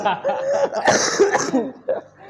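A few short, rough coughs mixed with throat clearing, close by, broken up by brief vocal sounds.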